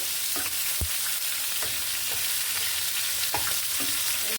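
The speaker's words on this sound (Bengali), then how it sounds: "পটলটা দিয়ে চুলটিয়ে পাল্টিয়ে সব জায়গায় তেলটা মাখিয়ে দিলাম" Pointed gourd slices frying in oil, turned one by one, with a dense continuous sizzle and occasional soft knocks of a utensil against the pan, close and fairly loud, no voices.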